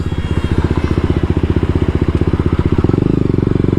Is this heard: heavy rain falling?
no